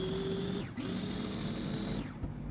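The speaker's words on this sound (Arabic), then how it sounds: "هضربه في الكبة بتاعتي لغاية ما ينعم ضربة والتانية كده، عشان يبقى ناعم معايا" An electric chopper whirs steadily as it grinds leftover cake into fine powder, the motor humming in two short bursts with a brief dip between them, fairly faint and with no talk.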